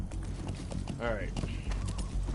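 Horse hooves clip-clop in the video game Metal Gear Solid V, with a whinny in the middle and game voices talking over the steady trotting.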